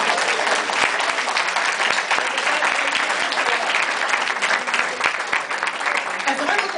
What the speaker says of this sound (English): So I think all of the students in this room deserve a round of applause.